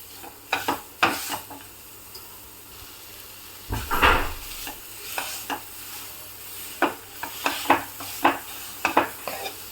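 A spoon stirs and mixes khoya in a pan, sounding as intermittent close scraping strokes with a soft sizzle and one heavier clatter partway through, and no voices.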